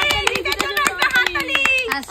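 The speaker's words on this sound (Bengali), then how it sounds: "হাততালি।" Young village children clap their hands in a quick, scattered burst of sharp claps, close by, mixed with lively talk and children's voices.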